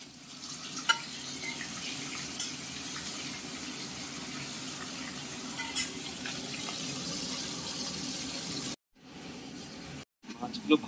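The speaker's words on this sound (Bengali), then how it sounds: "হালকা করে মাছগুলোকে ভেজে নাও" Pieces of katla fish belly fry in hot oil in a pan, giving a steady, moderate sizzle that runs continuously with brief breaks near the end; a voice speaks faintly over the frying.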